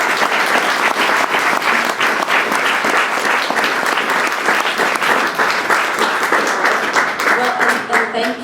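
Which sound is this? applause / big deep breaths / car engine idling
applause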